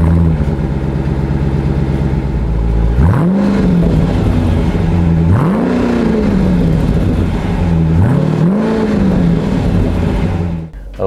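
A 2024 Dodge Durango SRT 392 with its Hemi V8 exhaust idles with a deep, steady rumble, then revs three times in a row, each rev swelling and falling back. Loud and close, with no talk.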